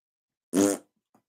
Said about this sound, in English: And that was not a fart, that was my chair.